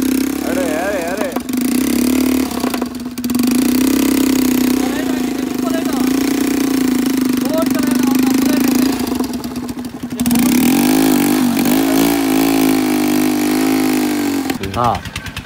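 A motorcycle engine running close by with a loud, steady throbbing drone that dips briefly and returns, while voices talk over it.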